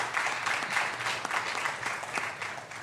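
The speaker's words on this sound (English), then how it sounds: "we need to give them a round of applause" Sustained audience applause at a sport and higher education conference closing ceremony, a steady dense wash of many hands clapping throughout, moderately loud and even.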